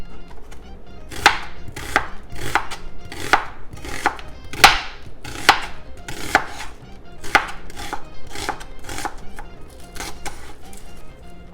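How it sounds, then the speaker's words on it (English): A knife chops an onion on a cutting board in a home kitchen, about a dozen crisp, evenly spaced strikes at a steady rhythm, close and fairly loud with no talking. "I'm gonna go ahead and cut up my onion."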